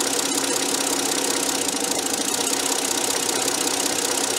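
A Kia Carnival engine runs continuously with a steady, gritty mechanical drone and knocking-like texture, recorded close, with only slight changes in engine speed and no voices.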